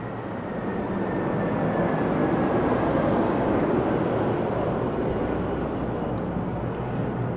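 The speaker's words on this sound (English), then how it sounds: "Do you ever hear airplane going over, or like an abnormally loud noise?" An aircraft's broad, steady rumble swells and holds loud for several seconds near a naval base, one continuous roar with no breaks and no voices.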